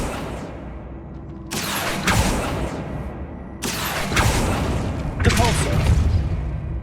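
Spell effects in Hogwarts Legacy: several loud whooshing, booming magical bursts at irregular intervals, each with a sharp onset and rumbling tail, with a voice speaking between them.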